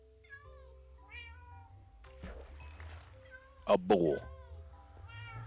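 Cats meow several times, drawn-out and fairly close, with one louder, harsher burst near the end, while someone talks over them in a room.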